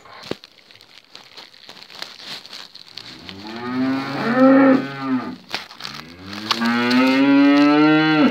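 On a farm, a cow wearing a bell gives two long, loud, close moos that rise and fall, one after another, preceded by rustling and crinkling handling noise.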